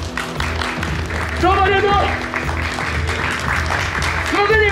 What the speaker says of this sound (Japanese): 誰に大きな拍手を。